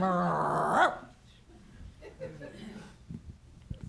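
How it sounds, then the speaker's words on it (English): A dog growls and whimpers briefly and nearby, low rumbles and short whines heard after a moment of talk, then intermittent soft noises. "Sounds like a dog, Victoria."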